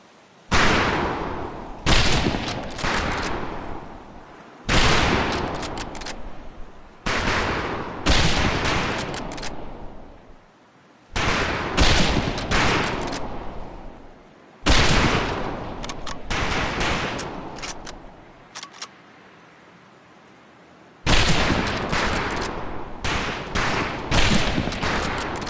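Bursts of gunfire ring out on a boot camp firing range in Medal of Honor: Pacific Assault, several loud volleys a few seconds long, with short pauses between them and a longer quiet gap near the end.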